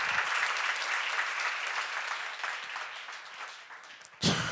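A church congregation claps together during a sermon, a busy wash of hands that gradually thins, with a sharper burst of sound right at the end.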